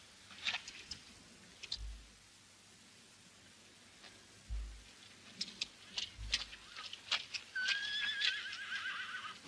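A horse whinnies near the end of a scene from a western film in which the horse has been shot, preceded by scattered low thuds and knocks, with no talking.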